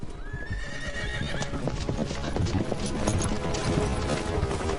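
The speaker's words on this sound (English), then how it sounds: "Whoa, whoa, whoa there, horsey." A horse's hooves clip-clop steadily while it lets out a whinny near the start, close and fairly loud on a busy outdoor scene.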